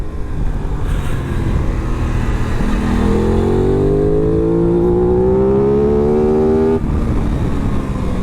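An Aprilia RS 660 sport motorcycle engine climbs steadily in pitch as it accelerates hard to about 7,000 rpm, a rising whine over road and wind noise, then cuts off abruptly.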